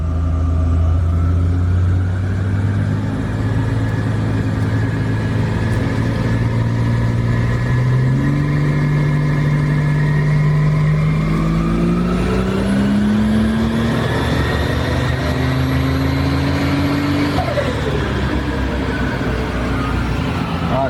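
Turbocharged Barra straight-six engine, previously abandoned, running under load on a dyno, droning loudly and steadily as it pulls up through the revs in one long sustained run with no talk.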